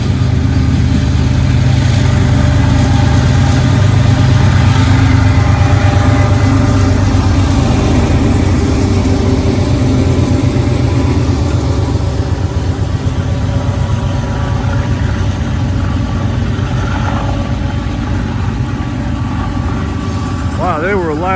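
Heavy coal train locomotives working hard, a loud continuous diesel roar and rumble that stays near and steady throughout, with some voices faintly underneath.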